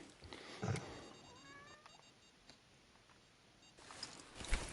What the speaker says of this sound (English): My cat's smashing on my headset.